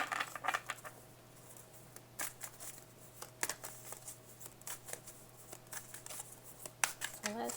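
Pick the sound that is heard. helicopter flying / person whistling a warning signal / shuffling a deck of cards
shuffling a deck of cards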